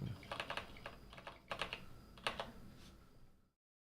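Rapid keystrokes on a computer keyboard come in short, close bursts with brief pauses, fairly quiet, before the clip cuts to silence.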